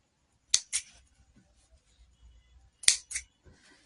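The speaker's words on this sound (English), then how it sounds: "what we are going to do is to cut the thread" Scissors cut the thread at the neckline of a sewn box pleat blouse, two pairs of crisp, close snips separated by a quiet pause of about two seconds.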